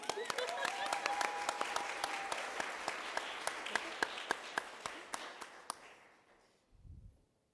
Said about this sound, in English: We can clap for her, yeah